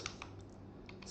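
Keys being typed on a computer keyboard while a command is entered for a Cisco router serial interface, a few soft, close clicks spread over a quiet moment.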